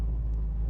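A 1979 Pontiac Trans Am idling close up, a steady low engine rumble with no change in speed throughout.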